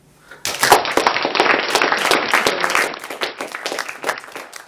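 An audience at an academic talk applauds after the event organiser is thanked, a dense burst of clapping starting abruptly and holding steady for several seconds before thinning slightly at the end.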